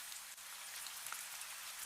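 Steady soft rain patters on a surface in an even hiss, with faint scattered drops and no other sounds.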